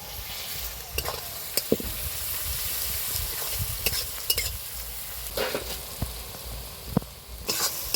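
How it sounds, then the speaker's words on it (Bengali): Garlic and onions sizzling together in a pan for a rooster chicken curry, a continuous hiss broken by frequent scraping stir strokes and clicks. "এবার রসুনটা দিয়ে দেবো, যেটা ভাজতে ভাজতে এটা হয়ে যাবে"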